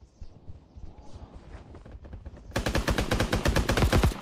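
Rapid automatic gunfire in the video game Mini Royale, scattered single shots at first, then a dense, loud burst of sustained fire in the final second and a half.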